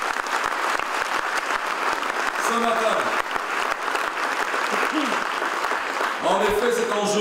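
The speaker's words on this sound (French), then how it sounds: "je vous demande d'applaudir le local, mais qui a une vision européenne" Audience applause at a cdH party breakfast during the Libramont agricultural fair, a dense sustained clapping from a seated crowd throughout, with a speaker's voice talking over it near the end.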